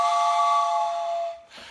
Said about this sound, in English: Gonna blow my whistle.